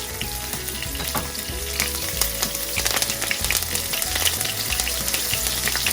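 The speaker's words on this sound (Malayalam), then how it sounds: "ഇപ്പോൾ ഓയിൽ ചൂടായി നമുക്കിതിലേക്ക് പെരിഞ്ജീരകം ഇട്ട് കൊടുക്കാം" Fennel seeds and slit green chilies fry in hot oil with a steady, busy sizzle and crackle, stirred throughout, close up with no talking.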